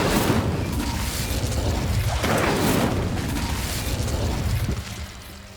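A fire spell is cast in Hogwarts Legacy, a loud, sustained roaring whoosh of flame with dense crackling bursts that fade toward the end, with no voices.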